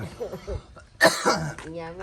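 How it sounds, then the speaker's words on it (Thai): A person coughs once sharply at close range, mixed in with people talking. "นี่เป็นคนไอ"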